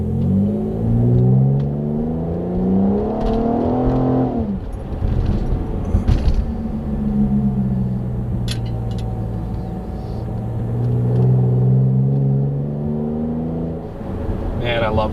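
A Pontiac G8 with a Mace cold air intake revs up again and again from inside the car, its engine rising in loud, layered wind-ups, with someone talking across it.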